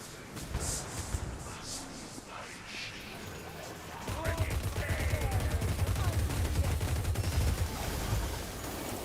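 Gunfire in a Warhammer video game: rapid bursts of shots crackle in quick succession, louder and denser in the second half, with a voice talking over the action.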